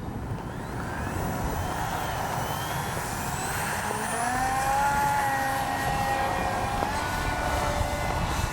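Small 3D-printed 800mm stick-style RC model plane on its maiden flight in wind, with a continuous motor whine and shifting pitch tones over steady wind noise, fairly distant.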